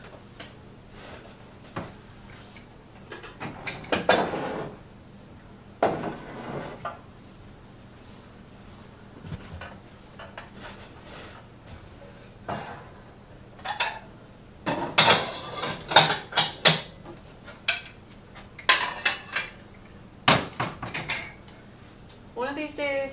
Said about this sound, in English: we gotta get these clean dishes put away